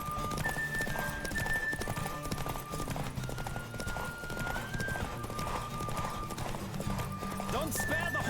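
Rapid clip-clop of galloping hooves with a horse neighing in The Witcher 3, loud and continuous, mixed with game music and talking voices over the top.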